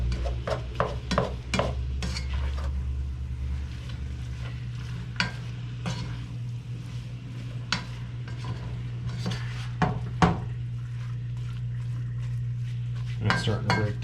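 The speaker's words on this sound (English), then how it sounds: "kind of squishing the meat around, breaking the big chunks down" A spoon squishes and breaks up a large batch of ground meat in a pot for chili, producing irregular scraping and clanking strikes over a low, steady sizzle, with occasional nearby speech.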